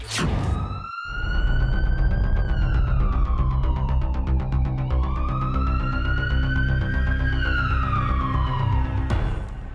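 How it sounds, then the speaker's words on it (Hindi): An emergency siren wails loudly and continuously, its pitch rising and falling in slow sweeps. "यहाँ इमरजेंसी सायरन बज उठा है"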